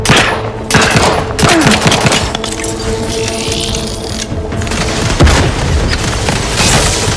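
Rapid gunfire and booming grenade blasts from a sci-fi shooter battle in Outer Worlds 2, loud and dense, with sharp bursts and heavy thumps continuing throughout.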